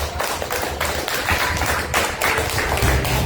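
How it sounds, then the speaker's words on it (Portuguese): A church congregation breaks into loud, sustained applause after the sermon, dense overlapping hand claps filling the room with occasional heavier thumps, continuous throughout. "dê uma forte salva de palmas"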